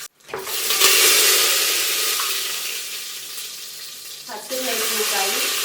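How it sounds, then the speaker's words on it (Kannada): Bay leaf and curry leaves dropped into hot oil burst into a sudden loud sizzle that hisses steadily, fades slightly, then flares again near the end, close and clear. "ಪಲಾವ್ ಎಲೆ ಹಾಗೂ ಒಂದು ಸ್ವಲ್ಪ ಕರ್ಬೇವಿನ ಸೊಪ್ಪು ಹಾಕ್ತಾ ಇದ್ದೀನಿ"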